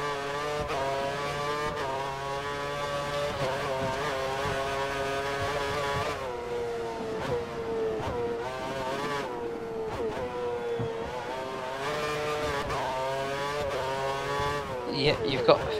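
Formula 1 cars race around Monaco in the video game F1 2013, with high-pitched engines whining loudly and steadily, rising and falling through gear changes. A voice talks over the engines at times.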